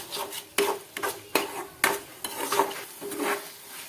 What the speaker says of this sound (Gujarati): હવે તેમાં થોડોક આપણે એલચીનો પાવડર નાખી દઈશું। તેને પણ આપણે સારી રીતે મિક્સ કરી દઈશું।